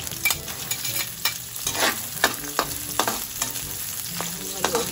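Garlic frying in a pan until golden brown: a continuous bright sizzle with frequent scraping stirs of a utensil against the pan, close and fairly loud, no voices.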